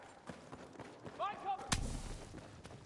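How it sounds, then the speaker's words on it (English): A frag grenade blast in the video game Battlefield 6: a single sharp, loud explosive crack with a rumbling low tail, preceded by a brief whining tone amid quieter game ambience. "Throwing frag!"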